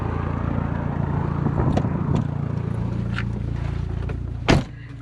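A turbocharged VW Jetta Wagon with a big turbo and 8V engine drones steadily on the road from inside the cabin, with faint rattles and a sharp knock near the end.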